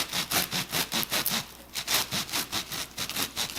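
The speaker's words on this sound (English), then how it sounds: "I'm going to cut off the heel, which is my favorite part." A knife saws through the crispy crust at the heel of a bacon cheddar beer bread loaf, a close, rhythmic series of about a dozen scratchy strokes with no talking.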